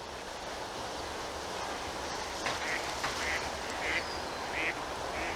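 Several short duck quacks ring out one after another over a steady wash of wind and background noise, moderately distant.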